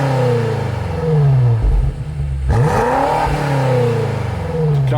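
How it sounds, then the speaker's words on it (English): A 2020 BMW X6M Competition with quad exhaust, two tips per side, revs loudly up and down through several swells, its engine note rising and falling close by with no talk over it. "Gorgeous rear diffuser, quad exhaust, dual on each side. Let's go ahead and take a listen to that."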